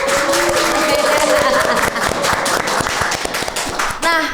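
A studio audience gives dense, sustained clapping to open an Indomaret podcast episode, with some voices underneath and a sharp break near the end.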